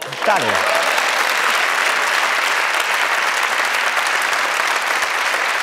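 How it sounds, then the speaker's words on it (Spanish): A large audience breaks into sustained, loud applause that fills the whole clip, after a brief cry at the start. "Ay, aplaude, aplaude."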